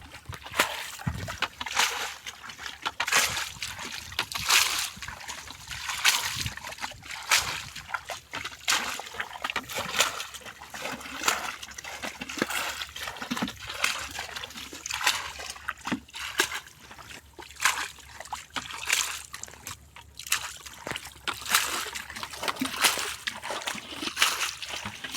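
Water bailed out of a pool in the Kaveri river to catch fish, with repeated close splashes and sloshes in an irregular rhythm, and occasional talk in the background.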